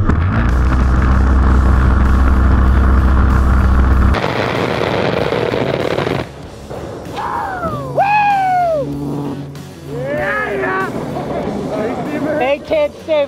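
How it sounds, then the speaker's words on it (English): An A-10 Thunderbolt II makes a gun run with its 30 mm cannon: a loud, continuous, deep buzzing roar lasting about four seconds. Rumbling and excited voices follow. "They're about to do a gun run."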